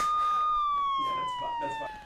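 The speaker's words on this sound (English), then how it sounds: "Sound the banger siren!" A siren sound effect, a steady wailing tone that glides slowly downward and stays loud for about two seconds, with a little background chatter under it.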